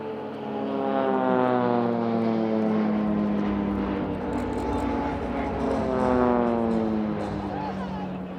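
A Swiss Air Force PC-7 propeller aircraft sweeps past in a close crossing during an airshow display, its engine drone rising and falling with a clear pitch shift as it passes near and loud, then fades away.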